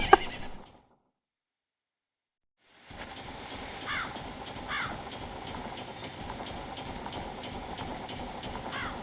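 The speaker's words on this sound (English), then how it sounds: "Sorry, that's my horse." A horse, Epona, whinnies in the video game Majora's Mask, a brief neigh right at the start, followed by silence and then a steady bed of game ambience.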